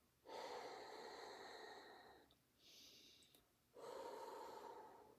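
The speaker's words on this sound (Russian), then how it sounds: "И в это отверстие будем выдыхать." Forceful exhalations blown through a small opening in a cupped fist during a breathing exercise for cough: two long, close, breathy rushes separated by a shorter, softer blow, with no talking.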